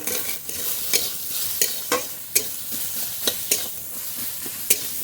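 Vegetables frying with salt, turmeric and green chillies are stirred in a pan, with repeated scraping strokes over a continuous close sizzle.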